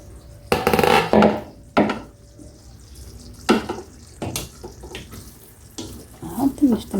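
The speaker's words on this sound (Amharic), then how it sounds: "ያችሁ ውሃ መጣ።" Water runs from a kitchen tap in short bursts while a tomato dish simmers on low heat, with stirring and clattering between the splashes.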